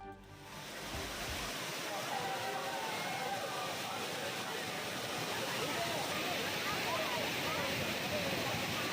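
Thirparappu waterfall roars in a steady broadband rush of falling water, loud and continuous, with crowds of bathers gathered around.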